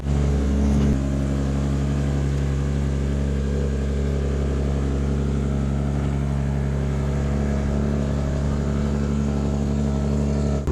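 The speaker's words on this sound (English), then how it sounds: "so I'm buying the oil and heading straight to the dyno. We're unloading and driving onto the dyno." A Nissan drift car's engine running on a dyno, a loud, steady droning hum with strong low harmonics held constant for about ten seconds, close up and without talk.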